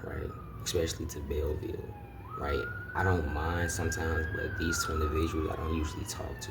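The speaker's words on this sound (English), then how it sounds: "That's the ambulance" An ambulance siren wails with slowly gliding pitch, close by, while someone talks steadily over it.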